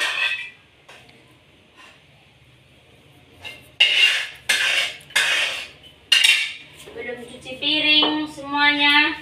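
Dishes, cutlery and pans clink and clatter as someone cleans a dirty home kitchen, in several loud bursts of scraping and knocking metal and crockery close by, with brief talk between them.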